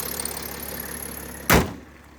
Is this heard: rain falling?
no